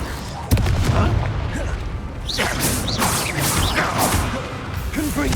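A Confringo blasting spell in Hogwarts Legacy goes off with a sharp blast near the start, then a steady rumble of combat noise with scattered crackles and impacts.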